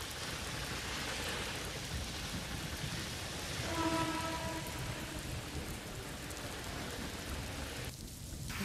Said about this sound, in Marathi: आज सकाळपासून पुन्हा पावसाला सुरुवात झालेली आहे